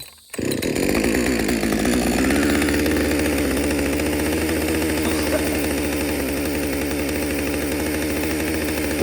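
A chainsaw engine, just started after choking and priming, runs loud and steady at fast idle for the whole stretch, a continuous buzzing drone with no talk over it.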